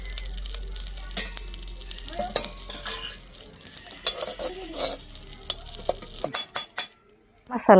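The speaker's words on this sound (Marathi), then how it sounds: "कमी जाळावर मसाला असं कडक भाजावं लागतात" Whole masala spices dry-roasted over a low flame in a pan with no oil, stirred steadily with a utensil that scrapes and clinks against the metal in a busy, continuous rustle, with a voice speaking nearby.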